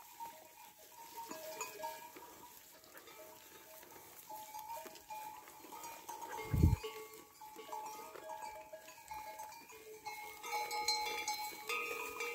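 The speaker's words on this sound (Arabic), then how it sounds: "المكان فين تيكون المعز هو هذا الجرس." Small bells hung around the necks of a goat herd clink and tinkle in overlapping, irregular patterns, each bell with its own pitch, over quiet outdoor background with one brief dull bump midway.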